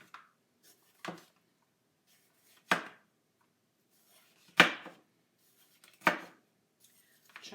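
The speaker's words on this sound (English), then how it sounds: "Chop, chop, chop." Food being chopped with a knife on a board: five sharp, separate chops spaced about a second or more apart, close and clear against near silence.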